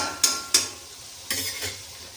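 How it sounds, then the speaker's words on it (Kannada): Carrots and onions frying in butter and a little oil in a pan, a soft steady sizzle broken by two sharp stirring scrapes near the start and a louder burst of sizzling later. "ನೋಡಿ ಬಟರು, ಸ್ವಲ್ಪ ಎಣ್ಣೆ ಹಾಕ್ಕೊಂಡು ಫ್ರೈ ಆಗ್ತಾಯಿದೆ"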